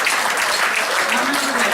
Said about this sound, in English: Please put your hands together and join me in welcoming